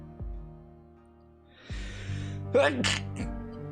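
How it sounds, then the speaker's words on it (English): A single loud human sneeze bursts out near the middle, sharp and close, with a quick intake of breath just before it. Soft sounds of game music sit underneath. "I'm about to sneeze, I can tell."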